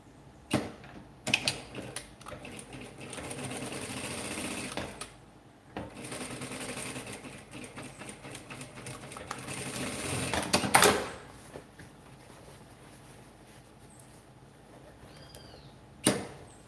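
A sewing machine runs in bursts while stitching fabric scraps for a small handbag, with a whirring mechanical rattle that starts and stops, a louder clack near the end, and quiet handling between runs.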